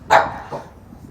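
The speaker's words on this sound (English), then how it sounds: "apart from the barking dog" A pet dog barks twice outdoors at a sailing club during a DF95 radio-controlled model yacht race: one loud, close bark followed by a softer second bark, with light wind noise behind.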